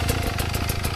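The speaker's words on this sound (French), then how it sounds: "ton moteur, on l'entend." Small motor engine running steadily during the Ronde du Forez motorcycle trial at Courpière, a continuous close, loud droning with a faint rhythmic pulsing throughout.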